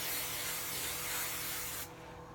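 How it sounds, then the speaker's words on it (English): A single continuous hiss of hairspray from an aerosol can, close and steady for about two seconds before cutting off. "there's no such thing as too much spray"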